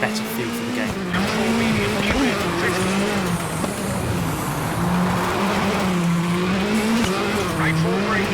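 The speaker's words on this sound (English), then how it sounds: "leave you with just the game sounds, so you can kind of listen to the pace notes and the sound of the car and the sound of the surface" A rally car in the WRC 8 video game revs hard and shifts while its tyres scrabble and skid across a gravel surface, loud and continuous, with a voice faintly underneath.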